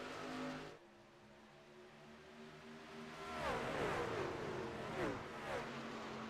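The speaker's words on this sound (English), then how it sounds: "Rincon spins the tires." Race car engines at Charlotte Motor Speedway roar and rev up together at a green-flag restart, with rising whines sweeping upward around the middle and end, loud and continuous, with a commentator's voice underneath.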